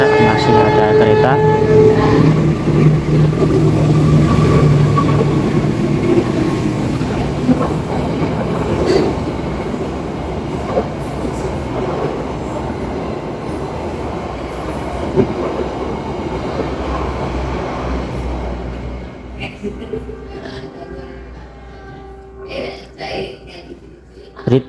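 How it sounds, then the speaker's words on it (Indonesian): A train rumbles past nearby with rattling clickety-clack, loud at first and gradually fading as it moves away, leaving quieter background noise. "Sebentar, masih ada kereta."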